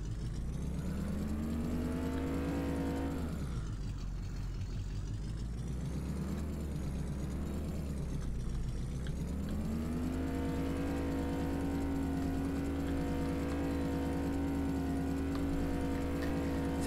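A race car in Farming Simulator 15 drives steadily with a continuous engine drone that dips in pitch twice as it slows, then climbs and holds a higher tone, loud and close with no talking.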